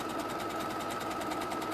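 A sewing machine stitching a zip onto a bag runs in a fast, even rattling whirr, close and steady throughout the short stretch, with no talking.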